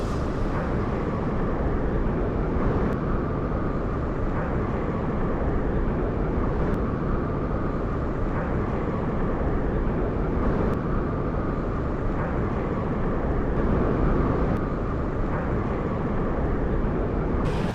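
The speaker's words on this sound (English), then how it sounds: "The Airbus rotates into the sky." An Airbus airliner taking off, a steady, loud, broadband engine roar that holds evenly without breaks, with no voices over it.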